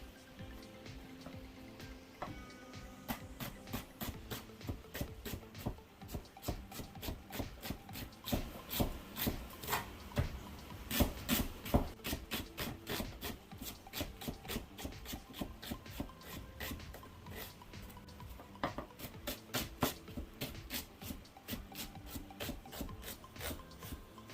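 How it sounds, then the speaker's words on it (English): Onions cut up on a table for Jamaican oxtail, making a steady run of rhythmic knife strokes that sound crisp and close, continuing without pause for about twenty seconds. "Now I'm going to start out by cutting up my onions."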